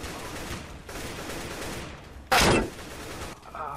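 Gunfire in the online game Roblox, AK rifles and a shotgun, rattles in a steady rapid burst of shots, broken by one loud, close blast near the middle.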